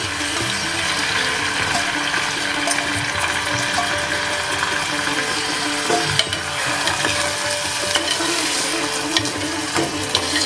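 Washed rice being sautéed with cinnamon and cardamom for sweet coconut rice, a steady soft sizzle and scrape of grains stirred in a hot pan, with occasional clicks of the spoon against the vessel.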